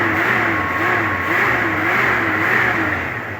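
A 1984 Jeep Wagoneer's engine runs steadily up close, a continuous mid-pitched hum with a slight rise and fall in revs, loud and unbroken throughout.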